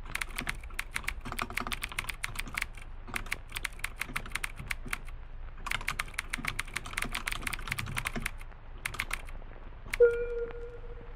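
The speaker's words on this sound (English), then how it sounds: "Oh my god, this is typing." Rapid typing on a computer keyboard in a horror training exam game, dense bursts of close key clicks in uneven runs with brief pauses, ending in a short electronic tone.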